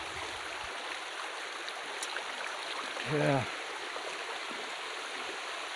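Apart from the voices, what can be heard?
jungle river stream flowing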